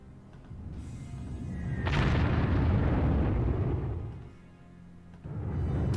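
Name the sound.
explosions from Stuka bombing a tank in video game Panzer Corps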